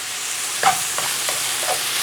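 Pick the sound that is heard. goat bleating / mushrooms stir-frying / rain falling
mushrooms stir-frying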